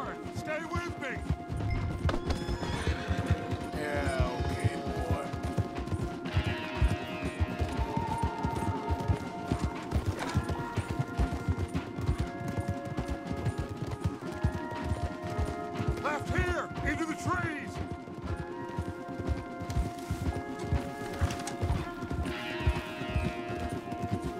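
Horses gallop hard in a Western-style video game, a fast continuous clip-clop of hooves with occasional neighs and scattered crashes, steady and fairly quiet, with brief game voices over it.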